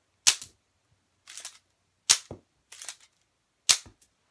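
A K'nex war pistol V2 fires in a series of five sharp, close snapping shots, each followed by a short clatter, spaced unevenly over about four seconds.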